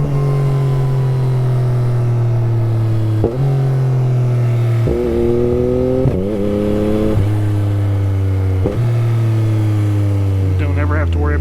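Yamaha MT-09 motorcycle accelerating through the gears with a quick shifter, the engine tone climbing then dropping sharply at each of several quick upshifts, loud and close, with wind noise behind it.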